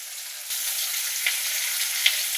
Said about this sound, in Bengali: উচ্ছেটা ভাজবো।